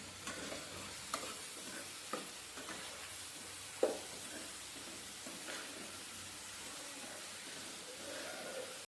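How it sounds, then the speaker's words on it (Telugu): Onions frying with a little turmeric for a drumstick chicken curry give a soft, even sizzle, with occasional spoon taps and stirring scrapes against the pan, faint and steady. "ఆనియన్స్ ఫ్రై అవుతున్నప్పుడు కొద్దిగా పసుపు వేసుకొని బాగా మిక్స్ చేసుకోవాలి."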